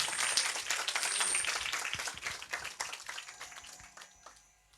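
A church congregation at a Hindi-language revival meeting claps for Jesus, a burst of many hands that starts strong, thins out and fades toward the end.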